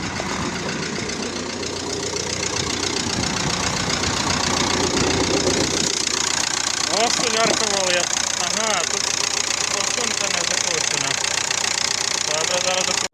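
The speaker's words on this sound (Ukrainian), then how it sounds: "Ось так мотор працює" A Ford Mondeo Mk3 2.0 TDCi diesel engine idles steadily with a rough, knocking rumble, close and continuous, while someone talks over it; diesel is leaking from the return line.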